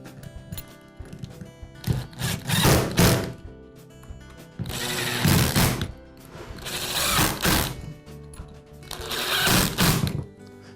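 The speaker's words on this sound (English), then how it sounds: "Once everything is aligned, go ahead and retighten the screws." A power screwdriver whirs in bursts, driving screws back into the housing of a Ridgid cordless drill during repair, with several short ratcheting, buzzing runs separated by brief pauses, close and fairly loud.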